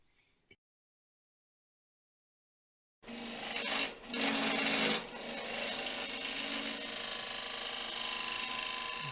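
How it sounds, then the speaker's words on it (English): A 3/16 square cutter shaves a koa crotch bowl with an undercut rim on a wood lathe. After a few seconds of near silence comes a steady, close scraping rasp with brief surges in intensity. "I'm going to go back and do this with the 3/16 square cutter instead of the teardrop"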